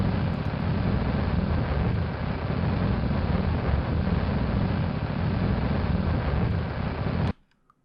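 A rocket engine roars in Kerbal Space Program, a loud, dense, continuous rumbling thrust that holds steady for about seven seconds and then cuts off abruptly into near silence.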